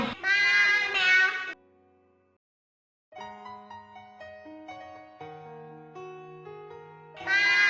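A cat meows in two loud, drawn-out calls at the start and one more at the end, with a soft melodic tune filling the quiet middle between them.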